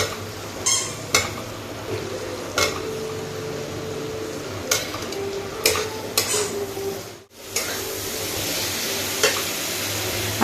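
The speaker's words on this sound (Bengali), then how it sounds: "মশলা এখন ভাজা হচ্ছে" Spices and potatoes frying in a pan in a home kitchen: a steady, close sizzle with repeated scrapes and clinks of a spatula stirring against the metal pan, and a brief pause midway.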